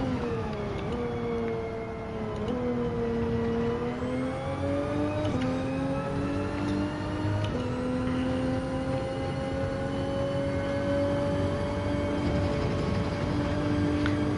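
Race car engine in Gran Turismo 7, revving high and whining as it accelerates through repeated gear changes, pitch climbing in steps before holding a sustained loud drone.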